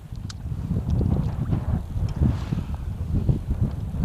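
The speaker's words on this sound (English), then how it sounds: "The wind is kicked up pretty good." Wind blows steadily across a Kansas lake during a crappie fishing trip from a boat, a low, rumbling buffeting on the microphone with gusty swells, close and fairly loud, with no voices.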